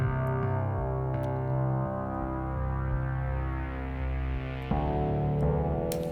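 A synthesized bass line with a piano-like plucked tone plays steadily in a dark, retro synth cue, its low notes shifting every second or two, loud and alone with no voices.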